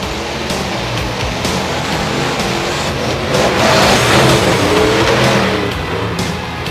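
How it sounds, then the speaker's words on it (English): Monster trucks race head-to-head on an evening track, their engines roaring loudly and continuously, swelling louder midway as they accelerate, with crowd-like noise mixed in and no talking. "some side-by-side monster truck racing here this evening"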